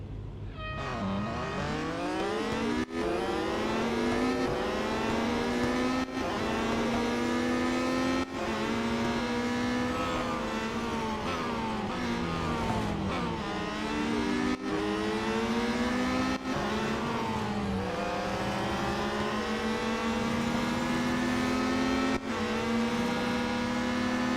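Race cars in the Real Racing 3 mobile game, engines revving continuously and loudly, pitch rising and falling through repeated gear shifts with brief cuts between them.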